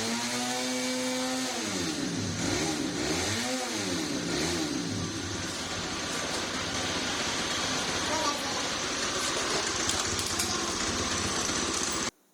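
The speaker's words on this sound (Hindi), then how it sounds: "थ्रॉटल देके हमने ये चेक किया कि बाइक कोई मिसिंग वगैरह तो नहीं करती थी" A Honda 100cc Pridor motorcycle running on LPG and petrol is revved several times, its pitch swooping up and down with each twist of the throttle, then holds a steady buzzing roar until it cuts off abruptly.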